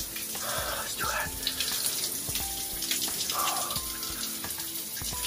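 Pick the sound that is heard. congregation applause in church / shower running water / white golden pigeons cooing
shower running water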